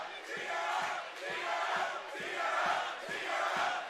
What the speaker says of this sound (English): can't figure out the tee her up chant coming from the crowd